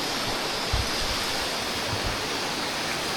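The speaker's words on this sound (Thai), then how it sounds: "น้ำไหลเย็น" Cool water flows steadily at a homestay in southern Laos, a soft continuous rush with faint low splashes, moderately quiet and unbroken, no voices.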